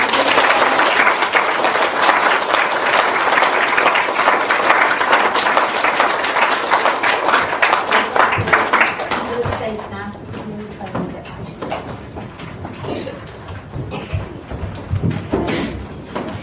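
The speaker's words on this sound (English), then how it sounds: "Let's give them a big clap" A school assembly audience claps for children receiving merit certificates, a dense loud burst for about eight seconds that then thins into scattered claps and shuffling, with voices talking underneath.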